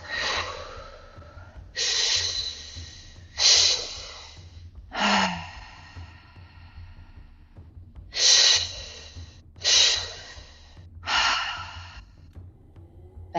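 Slow, deep exhales come in a guided breathing exercise, about seven long breathy whooshes spaced a second or two apart, close and clear against quiet.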